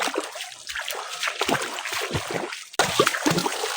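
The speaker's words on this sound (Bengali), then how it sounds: "দেখি ঝর্ণাটা কেমন।" A hill-country waterfall near Rajasthali gives off a continuous, close rushing splash of falling water, steady throughout apart from one brief dropout.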